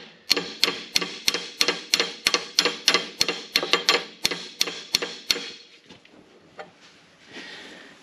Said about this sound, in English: I could switch my hammers and hit it from the other side